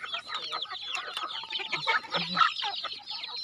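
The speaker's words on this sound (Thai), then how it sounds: "ไก่ชน" A fighting rooster clucks repeatedly at close range, a run of short throaty clucks and squawks without pause, loud and alone.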